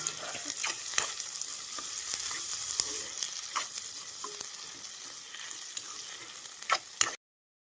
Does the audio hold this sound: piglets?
no